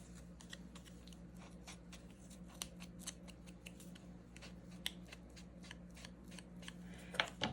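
Close, quiet scissor snips cut a piece of paper in half for a winter solstice journal, a run of rapid small crisp cuts over a low background hum, with a louder clatter at the end.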